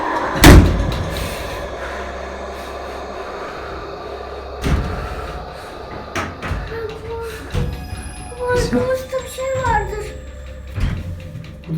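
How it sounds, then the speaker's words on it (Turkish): Door in a house closed and slammed shut, a sharp loud bang near the start followed by further knocks and thuds, with people speaking and calling out in the background. "kapat kapıyı kapat kapıyı"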